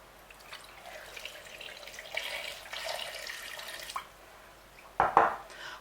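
Water from a tap runs into a cooking pot for parboiling carrots, a soft steady trickle with faint splashing that ends in a brief louder gush near the end; no one speaks.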